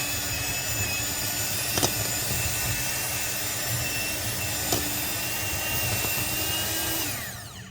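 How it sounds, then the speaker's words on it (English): An electric hand mixer whirs steadily on low speed through biscuit dough, a continuous motor hum with a couple of faint clicks, then winds down at the end. "I'm going to take my hand mixer"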